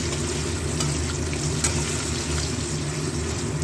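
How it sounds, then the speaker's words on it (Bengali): Potatoes and salt frying in a pan give a steady, close sizzle with faint stirring through the whole stretch, with no talk. "নুন দিয়ে ভেজে নেবো, একটুখানি, খুব বেশি না, এই একটু নাড়াচাড়া করে নামিয়ে রাখবো"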